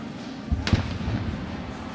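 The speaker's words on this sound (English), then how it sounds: "Cannon shot tells us we've gone final" A cannon fires to mark the final whistle of a Georgia Tech versus Virginia Tech college football game, one sharp booming thud over steady stadium crowd noise.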